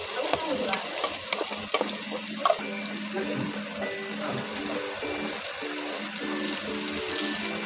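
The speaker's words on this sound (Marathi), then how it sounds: "कांदा खोबऱ्याचं वाटण टाकून घेऊ" Onion and coconut paste hissing and sizzling as it fries in a pan of hot oil for a Maharashtrian vajadi masala, with steady close frying noise and light stirring scrapes.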